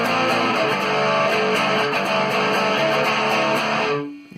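Electric guitar played through a small practice amp with the treble turned up, a dense, distorted and continuous wash of sound held loud for about four seconds before cutting off and decaying.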